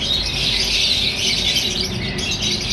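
A breeder pair of diamond pied doves at a bird market, with dense, continuous bird calls and chirps close by, steady and fairly loud without pause.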